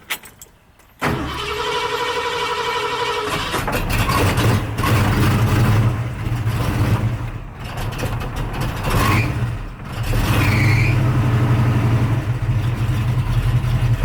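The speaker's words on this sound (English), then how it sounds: "if I attempt to turn the car on now" A car engine cranks and fires after a short quiet start, then runs with an uneven idle and a few rev swells, loud and close, with no talk.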